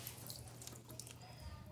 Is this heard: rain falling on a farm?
no